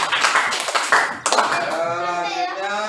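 A classroom group claps together in a short burst of applause that fades after about a second, followed by voices talking and singing.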